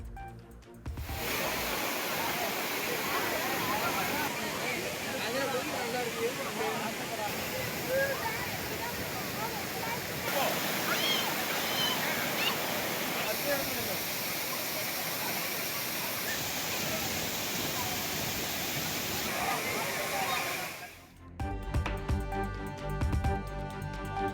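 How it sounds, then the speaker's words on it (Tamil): Water pours steadily down the Thirparappu waterfall, a continuous dense rushing roar held for about twenty seconds, then briefly dropping away near the end. "அருவியில் சீராக கொட்டும் தண்ணீரில் சுற்றுலா பயணிகள் நீண்ட நேரம் குளித்து மகிழ்ச்சி"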